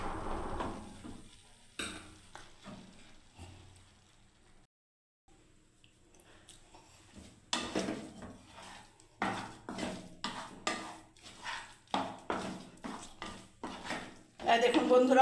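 A spoon stirs a semolina dessert cooked with ripe mango in a pan, producing a run of rhythmic scraping strokes that grow steadier and louder in the second half after a quieter, sparser start.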